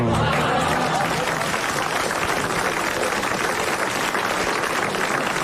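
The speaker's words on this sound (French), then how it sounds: "vous applaudissez en ce moment comme il le mérite, Monsieur Montségur de Montreuil-sous-Bois," A French television studio audience claps steadily in sustained applause, a dense even patter that holds from start to finish.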